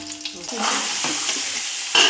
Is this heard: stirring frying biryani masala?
yes